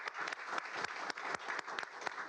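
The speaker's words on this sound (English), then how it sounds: "So big applause." Applause at a county board of education meeting, made up of distinct claps from a modest group that ring out over a steady patter, moderately close and even in level.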